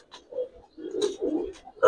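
Giribaz pigeons in a loft cooing in a few soft, low, close murmurs, with a brief sharper note near the end.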